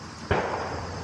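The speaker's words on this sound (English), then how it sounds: "oh, there's more gunshots." A single sharp gunshot from a nearby shooting range cracks once, loud and abrupt, then leaves a brief fading echo over steady outdoor background noise.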